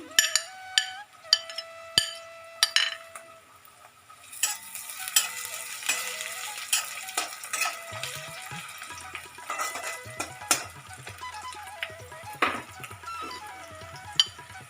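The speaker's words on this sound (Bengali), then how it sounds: "একটু ভাজা হোক, লাল হয়ে গিয়েছে আমার।" Chopped ginger hits a hot pan for chicken bharta: a few sharp utensil clinks first, then a steady close sizzle of frying with intermittent stirring scrapes and taps, no voices.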